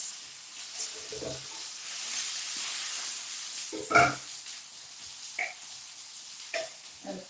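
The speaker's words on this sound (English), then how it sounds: "But now we're gonna fry in the pan for the aubergine" Aubergine frying in a pan, heard as a soft, steady hiss and sizzle under faint kitchen clatter, with a few small pops and knocks.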